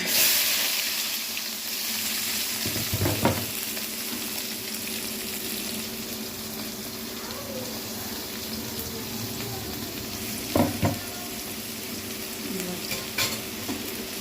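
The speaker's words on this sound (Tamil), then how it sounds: "வெங்காயத்தை வதக்கிக்கலாம்" Onions sautéing in oil with fennel seeds and mustard seeds in a kadai, a steady close sizzle throughout with a few louder bursts of stirring and scraping.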